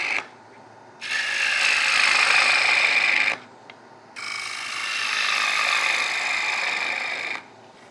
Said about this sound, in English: Bottom bowl gouge, 60-degree bevel on there with the heel removed again.